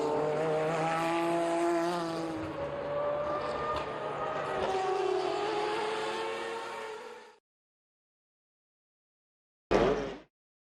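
A Mazda 787B Group C race car with a 2.6-liter four-rotor Wankel engine screams past at high revs, a loud harmonic wail that fades out, followed by a brief sharp burst after silence.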